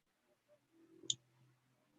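A single computer mouse click on an OK button, one brief faint tick in near silence.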